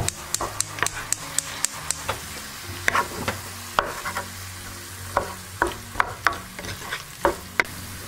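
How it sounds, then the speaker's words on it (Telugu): Tomatoes and onions frying in a pan for Andhra stuffed brinjal curry, with a steady sizzle and repeated sharp scrapes and taps of a spoon stirring close by, coming at an irregular rhythm. "ఇప్పుడు టమాటా కూడా కొద్దిగా సాఫ్ట్ అయ్యే వరకు వేయించేసుకోండి"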